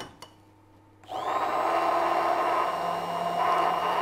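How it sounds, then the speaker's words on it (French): A Bamix-type immersion blender mixes warm custard into butter. After about a second of near silence it switches on into a loud, steady, close whirring that holds to the end. "je vais prendre un mixeur plongeant de type Bamix"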